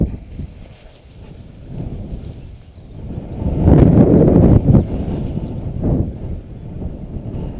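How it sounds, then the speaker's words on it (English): Strong wind blows outdoors during a dog hunt, gusting in loud, rumbling buffets against the microphone that swell and fade over several seconds, with no speech. "It's really windy."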